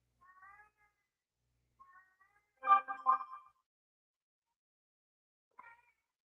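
A house cat meowing indoors, a couple of soft, short calls followed by a louder drawn-out meow and a brief final chirp, close and otherwise quiet.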